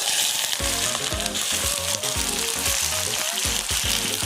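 Beans, green peas, carrot and onion sizzle in a hot pan for masala rice, a dense, steady frying hiss that runs throughout with background music underneath.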